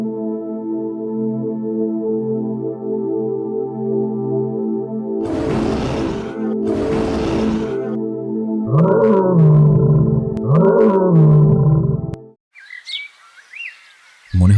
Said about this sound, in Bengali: জঙ্গলের ভেতর থেকে আরেকটি গর্জন ভেসে এলো।